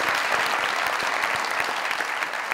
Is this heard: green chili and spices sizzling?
no